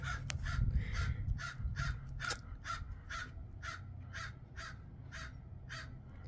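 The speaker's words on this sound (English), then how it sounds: "the crows are crowing." Crows caw repeatedly in a steady rhythm, about a dozen harsh calls spaced evenly, heard at moderate distance over a low background rumble.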